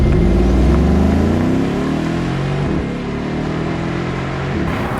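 A 5.5-liter bi-turbo M157 V8 in a Mercedes-Benz G63 AMG revs up close and loud, its pitch climbing, dipping near the midpoint and then holding at a steady, rumbling idle-to-mid rev.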